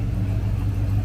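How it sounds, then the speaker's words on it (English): A car pulling in at a restomod show gives off a steady low engine rumble close by, with no break across the short stretch. "Car just pulling in."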